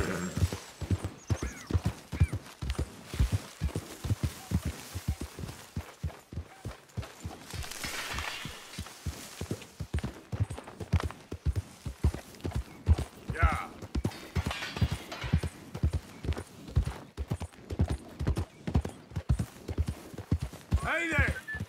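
Horse hooves in Red Dead Redemption 2, a steady close clip-clop of walking with occasional neighs and snorts, while voices talk over it.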